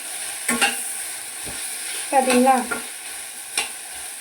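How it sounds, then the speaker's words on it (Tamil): Bell pepper being stir-fried in a pan while making a capsicum and egg stir-fry, with a steady sizzle and a few sharp scrapes of the spatula, plus a brief spoken word. "இதை அப்படியே ஒரு 2 மினிட்ஸ் ஃப்ரை பண்ணாலே போதும்."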